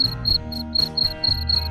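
Farmed crickets chirp in a fast, regular pulsing rhythm, shrill bursts repeating several times per second, close and clear with no voices.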